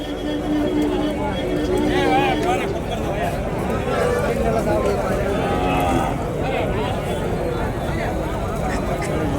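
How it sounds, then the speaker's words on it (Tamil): Cattle and calves at a native cattle market low and moo amid a constant crowd hubbub, with people talking throughout and animal calls rising out of the busy background. "இங்கேயும் மாதிரி நிறைய கண்ணுக்குட்டி நிற்கிது பார்த்தீங்களா"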